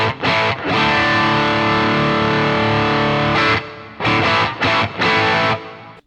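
Distorted electric guitar with Lexicon 224 reverb added in the Luna recording software: a long sustained chord, then several short chord stabs that ring out into a smooth reverb wash, with no one talking.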